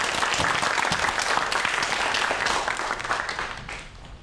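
A lecture audience bursts into warm, steady applause to open a science talk on Korean dinosaur footprints and fossils; the dense clapping continues throughout, then tapers slightly toward the end.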